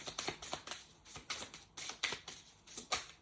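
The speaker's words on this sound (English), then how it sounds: "Just going to shuffle through and see if any want to jump out for any last messages." Tarot cards being shuffled by hand, giving a quick series of soft, crisp riffling clicks and flicks at close range with no talk.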